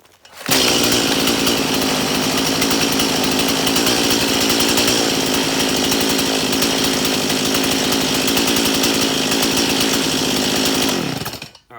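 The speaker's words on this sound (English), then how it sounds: "Being a chainsaw, it's always a smart idea to make sure your chain brake is engaged before you fire it up." Chainsaw firing up and running with the chain brake engaged, a loud close two-stroke engine roaring steadily for about ten seconds before cutting off, no talk.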